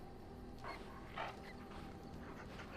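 A happy dog in the Dragon Age: Origins video game gives two short, close barks about half a second apart over a quiet background.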